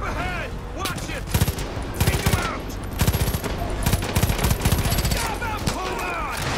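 Rapid bursts of gunfire in the video game Far Cry 5, many sharp cracks in quick clusters over steady game noise and music, close and loud with faint talk in the mix.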